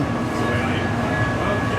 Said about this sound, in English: we are in the train. The first run.